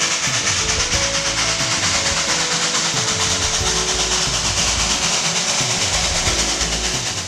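Steam locomotive running on a shakedown train, engine number 14, giving a steady, loud rush of steam hiss and rumbling rail noise close by, continuous throughout with no talk.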